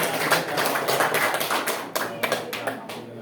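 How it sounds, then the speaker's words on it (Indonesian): A classroom group claps hands in a scattered, uneven burst, individual slaps standing out near and moderately loud, with some voices mixed in. "Pertama tepuk tangan dulu ya."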